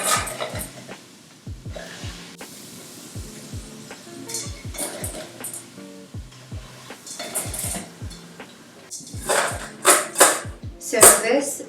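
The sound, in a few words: crispy baked potatoes being handled in a pan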